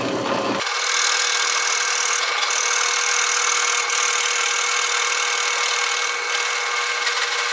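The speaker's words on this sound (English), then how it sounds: "Then we'll drill a hole at the other end of the opening." A power drill bores a hole through wood for a floating shelf, a loud continuous motor whine and grinding that starts abruptly and holds steady throughout, with no voices.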